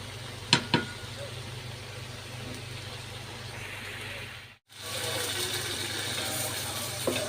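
Tomato and eggplant frying in a pan at home: a steady, close sizzle that drops out for a moment, with a couple of sharp utensil clicks near the start.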